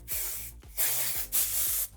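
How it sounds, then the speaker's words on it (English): An aerosol can sprays onto a face in three short hissing bursts, each about half a second, close and crisp, separated by brief pauses, with no talking. "I'm not used to spraying my face with"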